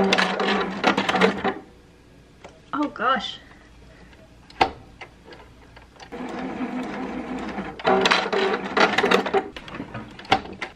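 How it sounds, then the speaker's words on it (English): Sewing machine stitching a feeding tube pad on a slow speed setting, running in short bursts of steady whirring mechanical stitching with pauses between, while someone speaks briefly in between runs. "I just sewed my first tubie pad on this machine"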